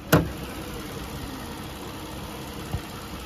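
A high-mileage Hyundai Grandeur IG 3.0 LPi running on LPG idles with the hood open, a quiet, steady low hum broken by a sharp click at the start and a faint tap near the end.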